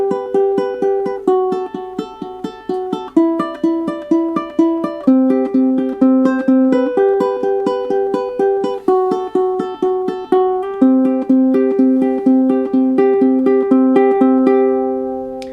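Ukulele finger-picked intro pattern of a song from The Greatest Showman, a steady flow of plucked notes over shifting chords, close and clear with no talking.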